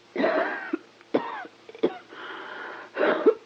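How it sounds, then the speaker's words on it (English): A bad, harsh cough in an audio drama, several wheezy, chesty coughing fits with throat clearing close to the mic, separated by short pauses. "That cough really is bad."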